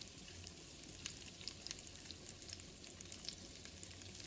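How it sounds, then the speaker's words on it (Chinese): Bitter melon stuffed with meat frying in a pan, turned over to brown the second side, giving a soft continuous sizzle with faint crackles, quiet and even throughout. "翻过来之后，我们再次给它煎一下，一定要给它煎熟煎香。"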